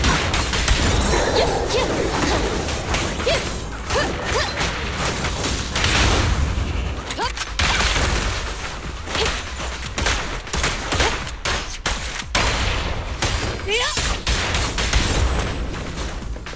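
Rapid gunfire and explosions from the game Zenless Zone Zero fill the scene, with dense continuous bursts and heavy booms layered over game music and effects, loud and sustained throughout.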